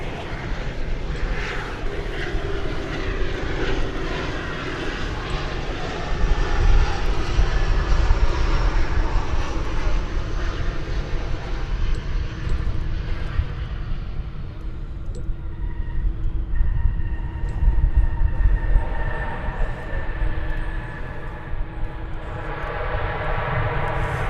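American Airlines jet arriving at DFW airport from Roswell, New Mexico: a loud, sustained engine roar with rising and falling whine as it passes nearby, swelling midway and easing toward the end.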